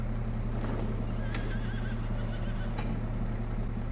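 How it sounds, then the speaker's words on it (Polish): Several horses neigh and whinny as they are unloaded from a trailer on a Farming Simulator 22 farm, high calls rising over a steady low engine drone, with no talking. "Dobra, no to teraz wyładujmy te konie, które mam na przyczepie."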